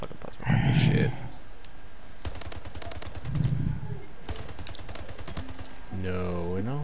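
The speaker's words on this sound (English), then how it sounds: "Oh, you got the machine gun, not the shotgun." Rapid bursts of machine gun fire in the arena shooter Splitgate ring out in two long clattering volleys mid-clip, while a player talks loudly over the gameplay at the start and end.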